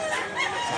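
Gamefowl rooster crows at a market in Mantalungon, Cebu, a single short, strained call close by and fairly loud, with other fowl sounds around it.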